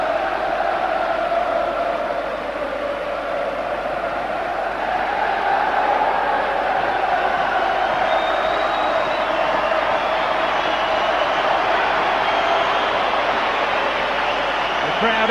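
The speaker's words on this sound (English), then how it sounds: "just wait for the roar for Liverpool" A packed stadium crowd at Anfield roars for Liverpool before a 1998 pre-season match against Inter Milan. The roar is a dense, sustained swell that builds steadily, with a commentator's voice running over it.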